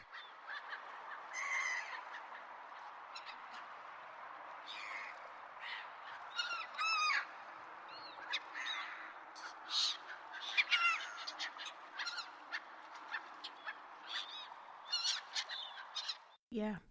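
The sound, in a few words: geese honking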